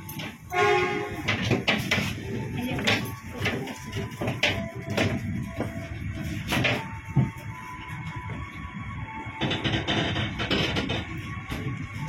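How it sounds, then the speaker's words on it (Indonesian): A Pasundan passenger train rumbles and clatters nearby as it pulls away from a station in Indonesia, with a horn sounding and mechanical noise throughout. "Kereta Pasundan juga diberangkatkan."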